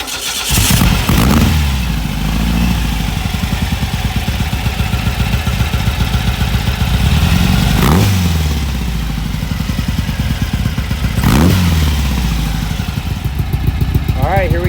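A 1972 VW Bug custom's air-cooled engine cranks and catches, then idles with a loud, close, rapid clattering putter that holds steady, with a few sharp knocks along the way.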